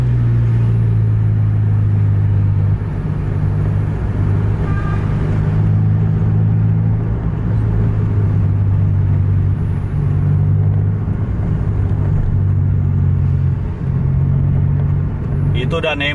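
A steady, loud low engine rumble from a tour bus on the road in Indonesia, a Scania K410 and an MB 1526, droning continuously with road noise throughout.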